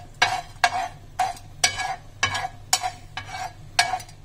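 Spices dry-roasting in a pan for country chicken sukka, stirred in a steady rhythm of about eight scraping strokes over a low, continuous background hum, close and moderately loud with no voices.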